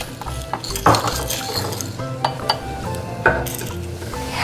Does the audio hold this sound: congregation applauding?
no